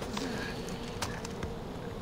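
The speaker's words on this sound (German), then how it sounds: "Eigentlich wollte ich die Bienen hier ja irgendwie vermeiden." Bees buzz in the video game Far Cry 4, a faint steady drone with a few light clicks and game ambience, no speech.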